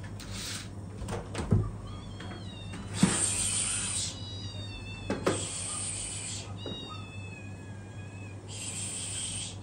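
Cats meow repeatedly near a kitchen while waiting to be fed: several drawn-out, wavering cries in succession, some strained like caterwauls, loud and close with short gaps between them.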